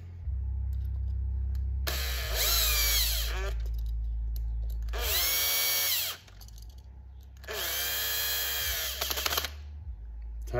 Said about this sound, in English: Grab your screw gun.